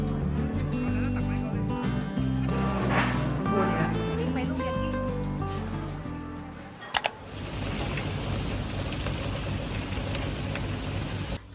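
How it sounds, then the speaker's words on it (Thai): Rain falls at night at a seaside pool villa in Hua Hin, a dense steady hiss that takes over after a stretch of soft background music and a couple of sharp clicks. "ในคืนที่ฝนโปรยเราอยู่ด้วยกันตรงนี้"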